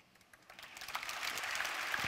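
A small audience at a medical lecture on resuscitation offers a faint, thin smattering of applause. A few scattered claps build slightly and continue quietly to the end.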